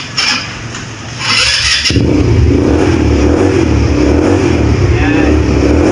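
A 200cc G-Force ATV engine cranks over and catches, then idles roughly and revs in a loud, steady mechanical drone; a voice talks over it early on.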